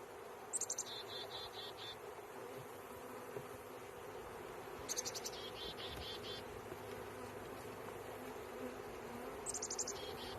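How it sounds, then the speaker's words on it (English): Honey bees buzz in a low, steady drone around a hive bottom, faint and continuous, with a few brief high chirps from birds outdoors breaking in at intervals. "And now there's just a big clump of bees in the bottom of this hive."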